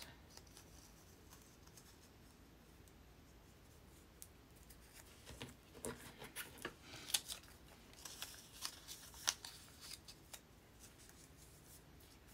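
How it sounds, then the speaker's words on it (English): Scissors cut a small 2-inch circle out of a book page for paper flowers, soft crisp snips and paper rustles growing busier midway, very quiet and close with no voices. "Just cut it out of this piece of book page."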